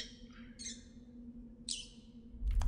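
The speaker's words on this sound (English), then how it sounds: "Hey, look, I got a bird." Two sharp, high squawks from a bird in the video game Virginia, one early and one midway, over a quiet low hum, followed by a brief muffled thump at the end.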